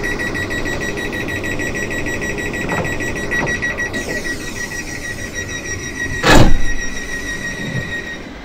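A train door closing alarm sounds in Train Simulator 2019 on a Littlehampton to Portsmouth service: steady repeating high-pitched warning tones run through the whole stretch over a low rumble, with a louder burst near the end.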